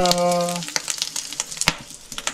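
Food sizzling and spattering in a pan, sharp crackling pops bursting irregularly over a low hiss, close by, after a brief tonal hum at the start.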